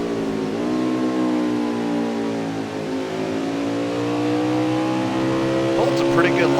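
Winston Cup stock car engine heard onboard during a lap, a loud steady droning roar with strong harmonics that shifts pitch slightly, with another competitor's engine passing nearby near the end.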